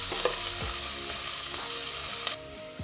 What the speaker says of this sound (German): Dann lasse ich anbraten, bis die Zwiebel glasig geworden ist.